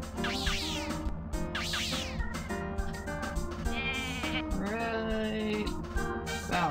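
Sheep bleating in a video game, several wavering cartoonish bleats in quick succession over a constant game music bed, fairly loud and close, with no talking.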